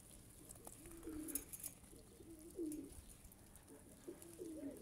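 Pigeons coo on a rooftop where grain is scattered for them, with soft repeated low coos rising in three or four bursts over a quiet background hiss.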